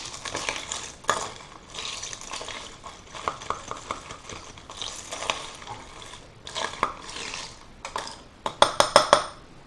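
A spoon stirs sugar through a caipirinha in a glass, making a run of light metallic scrapes and clinks that end in a quick cluster of sharper rings near the close.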